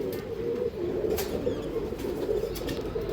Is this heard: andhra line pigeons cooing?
yes